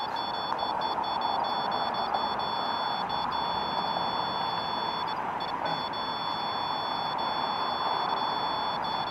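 A REM pod ghost-hunting device sounds its alarm, a steady high electronic beeping tone that keeps going for the whole stretch with a few brief dropouts, set over a constant hiss of room noise.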